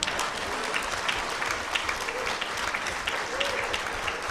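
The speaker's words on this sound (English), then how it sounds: "Clap for me very well." A crowd at an annual general meeting claps continuously and evenly for a few seconds, a dense wash of hand claps heard from within the room.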